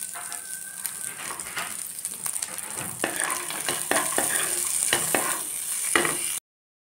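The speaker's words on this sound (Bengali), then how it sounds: "এবার এটা একটু লাল লাল করে আমি প্রথমে ভেজে নেব।" Cashews and raisins frying in a pan, with a steady sizzle and scattered stirring clicks and scrapes that build slightly over about six seconds, close and fairly loud with no talking.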